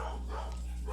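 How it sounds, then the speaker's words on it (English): An Australian cattle dog and Labrador mix barks indoors, a couple of muffled barks heard at a distance over a steady low hum. "My dog is barking. That's my dog, Buddy."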